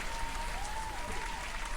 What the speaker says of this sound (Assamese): এটা ডাঙৰকৈ হাত চাপৰি মাৰি দিয়া